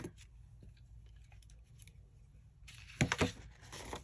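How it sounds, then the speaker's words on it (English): Scissors handled at a paper-crafting table, a few soft clicks and rustles followed by a brief louder clatter as they are picked up, in a quiet room. "I am going to grab my scissor"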